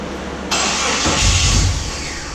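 Jeep engine cranking with ignition on after fuel priming, a sudden loud whirring crank that swells into a deeper near-catching rumble before falling back without fully starting, close and alone.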